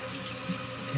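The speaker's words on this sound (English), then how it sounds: "So you're going to see right now it's filling the water in the tank." Water rushing steadily into a toilet tank as it refills, a brief continuous hiss and gurgle heard up close with no talking.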